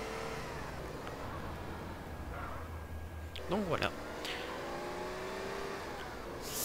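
Cars in the PC game GTA San Andreas drive and rev under steady background music, with a brief rising and falling engine sweep near the middle; someone speaks briefly in French.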